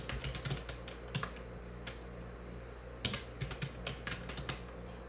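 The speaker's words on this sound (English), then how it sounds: "I'm hitting return or enter on my keyboard" Fast, irregular typing on a computer keyboard with light clicky keystrokes in short bursts and a pause midway, heard close and quiet with no talking.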